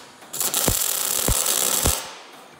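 Tack welding on the steel floor of a dump truck: a close, harsh crackling hiss lasting about a second and a half, with three sharp knocks through it and no speech.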